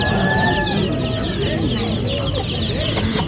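Chickens cluck steadily in a group, overlapping calls close by against a constant noisy backdrop, with faint high chirps above.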